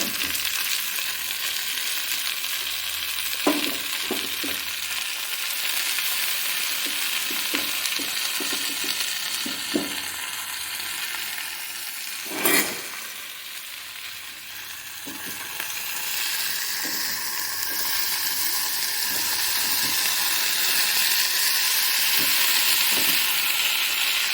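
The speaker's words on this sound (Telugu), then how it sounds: "ఇప్పుడు ఈ ఆకుర మెంతాకు దీంట్లో వేసేద్దాం వేసి దీన్ని కూడా వేగనిద్దాం" Fenugreek leaves frying in a pan, a steady close sizzle with scattered stirring clinks and one louder burst partway through, no talking.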